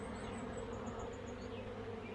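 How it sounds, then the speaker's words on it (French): Swarming honeybees buzz steadily outside a hive in La Réunion, a close, continuous low drone of many insects without speech. "Voilà, on voit des abeilles sortir avec du pollen."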